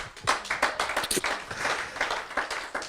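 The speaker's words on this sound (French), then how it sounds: "On peut acclamer pour Dieu" A church congregation claps for God during a pastor's sermon, producing a lively, uneven patter of many hands at moderate distance, steady across the moment.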